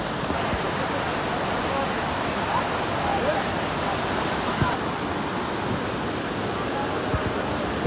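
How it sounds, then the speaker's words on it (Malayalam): A loud, steady roar of Alagapuri waterfall at Kanjirakolly, Kannur, continuous rushing water filling the whole stretch without a break. "വെള്ളച്ചാട്ടത്തിൻ്റെ നല്ല സൗണ്ടാണ്."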